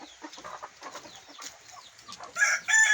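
Chickens clucking inside a coop, a busy close stream of soft clucks and murmurs that ends in a louder squawk or crow.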